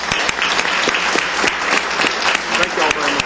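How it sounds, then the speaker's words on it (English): Dense round of applause from the audience at a county commissioners court meeting for 10-year employees, with many hands clapping steadily and close. "Let's give these 10-year employees a round of applause."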